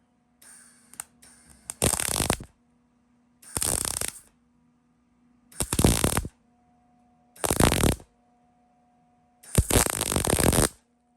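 Metal being welded in bursts to fill a big gap with a bead, a loud crackling, hissing arc sound in five separate runs of one to two seconds each, with quiet pauses between.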